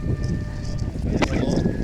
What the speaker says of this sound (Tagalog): narinig yung hangin, yung hampas ng hangin